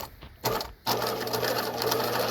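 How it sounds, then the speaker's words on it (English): A sewing machine stitching a buttonhole starts in short bursts, then runs into a steady, rapid mechanical whir and needle chatter, close and clear. "I'm going to start sewing down."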